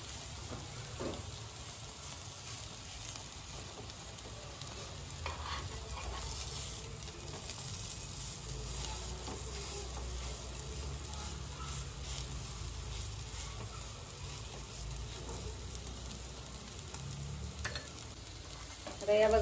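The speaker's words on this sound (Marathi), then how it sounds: "तर या सगळ्या अशा उलटून घ्यायच्या आणि दोन्ही साईडनी गोल्डन ब्राऊन करायच्या आहेत." Aloo tikki, potato patties, sizzle and fry in oil on a pan, a steady close crackle that runs throughout with brief scraping as they are turned, and no talking.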